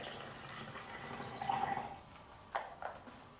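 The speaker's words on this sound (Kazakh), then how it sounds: "Ең бірінші мен қызыл түстен құяйын, және де көк түстен құяйын" Red and then blue watercolor paint pours into an empty container, making a faint, brief liquid trickle followed by a couple of short, soft splashes in a quiet room.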